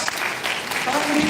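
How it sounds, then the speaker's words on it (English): A burst of loud, dense applause from a graduation ceremony crowd, steady throughout the brief moment. "give your parents a thunderous round of applause"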